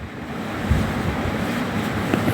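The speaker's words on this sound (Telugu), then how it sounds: "ఇలా నీళ్ళు పక్కకు వంపేయాలి." Water is poured off pressure-cooked lentils, a loud, continuous rushing splash close by that lasts a couple of seconds with no talk over it.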